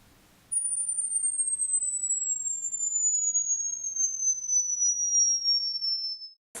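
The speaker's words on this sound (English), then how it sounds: "tinnitus is like a ringing, a high pitch. I get high pitched ringing in my ear" A thin, piercing high-pitched tone simulating tinnitus ringing rings continuously for about six seconds, sliding slowly downward in pitch, loud and steady over a faint background murmur.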